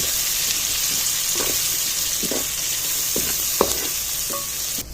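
Onions frying in a pan after ginger-garlic paste, a loud steady sizzle with intermittent spatula stirs and scrapes, one sharper clink near the end.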